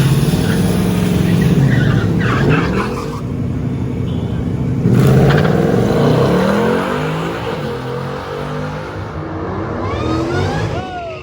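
A rental Ford Mustang launching down a drag strip, its engine roaring loud and close as it revs up through the gears, falling away briefly, then surging again with a rising whine at the end; a voice is faintly mixed in.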